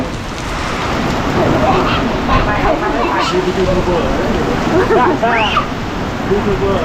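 Steady heavy rain pours outdoors, a loud dense hiss of drops on surfaces that stays constant throughout while people talk faintly underneath.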